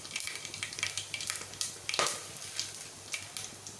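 Cumin seeds fry in hot oil for khichdi with a close, steady sizzle and a scatter of sharp little pops and crackles, one louder snap near the middle.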